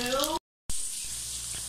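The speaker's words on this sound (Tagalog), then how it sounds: "Magpiprito tayo ng daing na bangus." Dried milkfish (daing na bangus) frying in hot oil, a loud sizzle after a brief cut, with a voice over the opening.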